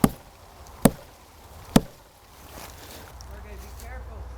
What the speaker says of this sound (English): This is what a wood knock should sound like.